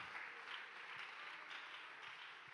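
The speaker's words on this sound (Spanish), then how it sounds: "Alguien que aplauda a Dios en esta hora." A church congregation applauds in a faint, steady wash of clapping heard from some distance, with a few louder claps standing out.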